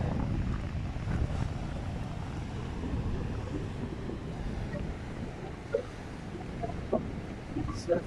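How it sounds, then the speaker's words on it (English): Large surf breaking along the beach near the blue pool at Yamba, a steady broad rumble of waves with heavy wind buffeting the microphone and no clear individual crash standing out. "catching the massive monster waves"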